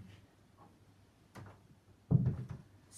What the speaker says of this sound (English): I'll close the door.